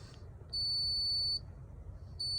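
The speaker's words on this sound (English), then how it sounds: "there's going to be a solid beep that's going to turn into a beeping." A wheelchair ramp control on a 2019 Toyota Sienna VMI NorthStar gives a steady high-pitched electronic tone for nearly a second, stops, then starts again, over a low background rumble.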